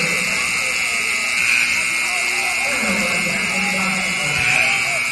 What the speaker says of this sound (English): got a buzzer issue.